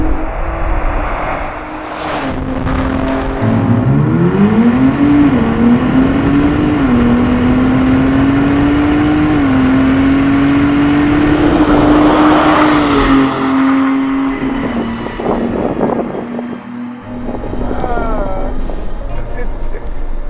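A Ford Bronco Raptor drag races a Hennessey VelociRaptor 500 Bronco, its engine heard from inside the cabin, revving hard with rising pitch sweeps through several gear shifts, loud and close, with an excited voice over it.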